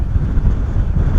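Strong blustery wind of about 35 knots at Bristol Airport hammers the microphone in a brief, loud, low rumbling gust with no pause.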